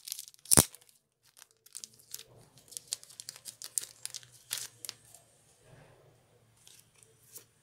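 Someone opens a pack of 2018–2019 UEFA Champions League trading cards by hand, and the foil wrapper tears and crinkles up close. One sharp rip is followed by scattered rustling and crackling, and a low background hum runs beneath it.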